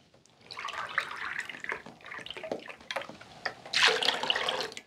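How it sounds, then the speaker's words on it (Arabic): Two cups of cold milk poured from a glass for dough, a gentle liquid splashing and trickling that runs in bursts for several seconds, soft and close. "وبنفس الكاسة بدي فضي كاستين من الحليب"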